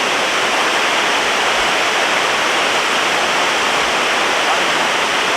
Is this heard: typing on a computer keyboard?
no